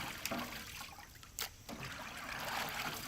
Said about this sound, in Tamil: தண்ணி வடிச்சுடுறோமே நல்லா